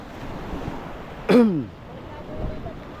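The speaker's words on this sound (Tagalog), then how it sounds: "dito tayo sa dagat" Sea waves wash onto a beach shore as a soft, steady background surf, broken once by a brief loud vocal sound close by.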